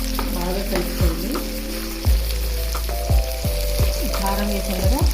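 A spoon stirs tomato pickle in a hot pan over a steady sizzle, scraping in repeated strokes roughly every half second, close and loud, with a low hum underneath.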